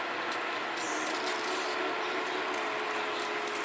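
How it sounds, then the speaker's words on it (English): A misting fan beside a stock tank pool on a hot day in Tennessee runs with a steady, close hiss and faint mechanical rattle, constant throughout with no voices. "Turn the fan on."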